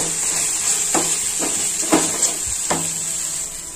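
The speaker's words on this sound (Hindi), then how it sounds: "सभी पाउडर मसाले डालेंगे और इसे भी हम थोड़ा सा भून लेंगे।" Powdered spices roasting in a hot pan for baingan bharta give a steady high sizzle, cut by four or five sharp clicks of a spoon against the pan; close and clear, with no voices.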